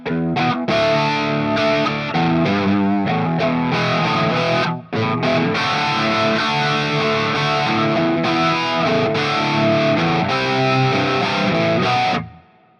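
Electric guitar played through a Fender Tone Master Pro on a preset named for an album gives loud, continuous distorted notes and chords with one brief pause midway before ringing out at the end.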